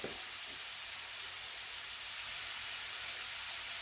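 Mushrooms sauté in a pan for a mead pot pie, giving a faint, even hiss with soft sizzle that holds steady and quiet with no talking.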